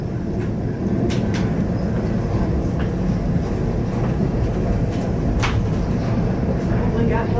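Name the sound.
Norfolk Southern manifest freight train in Elkhart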